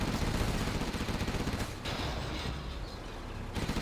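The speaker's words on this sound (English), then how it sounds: "This Gatling cannon here is going to be useful." A Gatling cannon fires in Command & Conquer Generals Zero Hour, a rapid, dense stream of rattling shots layered under broad battle noise, loud and nearly continuous with brief dips.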